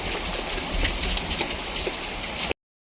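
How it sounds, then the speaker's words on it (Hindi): Heavy rain pours down in a village during a hailstorm, a dense steady hiss of drops hitting surfaces, close and loud, then cutting off abruptly. "कितनी तेज बारिश हो रही है।"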